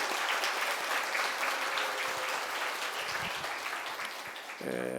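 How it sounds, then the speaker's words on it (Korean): Church congregation at a Sunday worship service applauding to welcome visiting missionaries, a sustained wash of clapping from many hands that fades near the end as a brief tone enters. "darle un fuerte aplauso a ellos"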